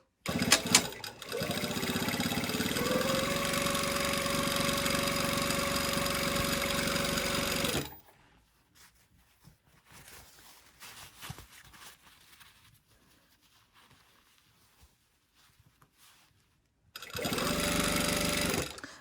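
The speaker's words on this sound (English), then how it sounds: "I'm basically sewing right up here to my, you can feel that pocket flap through there" A sewing machine stitching a seam at a 5/8 inch seam allowance through a pocket flap runs in a steady, loud mechanical whir for several seconds, stops for a quiet pause, then starts again.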